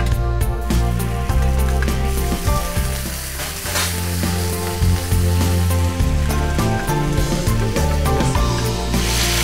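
Onions sizzling loudly in a hot pan with fat, a continuous close crackle and hiss with occasional stirring scrapes, no talking.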